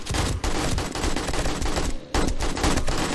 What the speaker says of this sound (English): I love the fact that this gun reloads when you stop shooting.